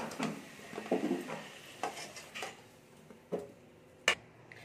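Clattering of a metal slotted spoon against a pan as fried new potatoes are lifted out of hot oil, a series of light clinks and taps scattered across a quiet kitchen with faint background sizzle.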